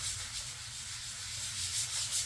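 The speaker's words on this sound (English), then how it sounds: "Sand down these spots here." A slightly wet sanding sponge is rubbed over a drywall patch on a ceiling, giving a steady, close, continuous scraping hiss with no pauses and no voices.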